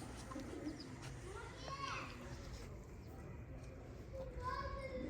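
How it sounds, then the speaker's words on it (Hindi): A male pigeon coos softly in short repeated phrases, with children playing and people talking nearby. "ये कबूतर नर।"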